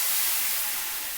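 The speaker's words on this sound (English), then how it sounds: "you can hear that sizzle from the water" Steady broadband hiss of water sizzling on a hot pan while cooking French toast, fairly loud and continuous, fading slightly toward the end, with no voices.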